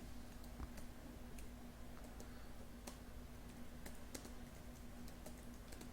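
Code being typed on a computer keyboard, heard as faint, irregular key clicks scattered over a quiet background hum, fairly distant and soft, with no talking.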